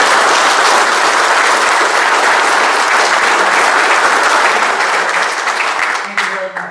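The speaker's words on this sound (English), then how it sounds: "Let's give these brethren a round of applause." A lodge audience at a 150th rededication ceremony breaks into loud, sustained applause that fills the hall, then thins and fades as a voice begins near the end.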